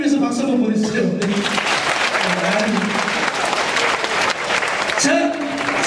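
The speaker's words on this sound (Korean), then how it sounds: "작은 사람들을 위해서 박수 한번 보내주세요." A crowd at an army-base charity concert applauds in a dense, continuous wash of clapping, loud and sustained, while a voice talks over it through a microphone.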